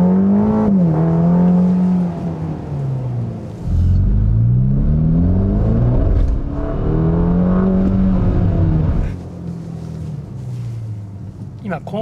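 A Ferrari accelerates hard on a wet closed course, its engine revving in rising, falling sweeps through the gears, loud and close; someone talks over it in places.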